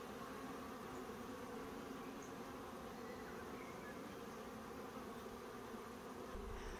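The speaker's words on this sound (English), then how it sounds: "I see a wasp in there climbing into the trap" A wasp buzzes faintly near a wasp trap outdoors, a steady low drone that stays even for several seconds with no voices.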